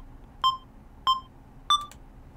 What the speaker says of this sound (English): Man, that's like super high school band metronome sound.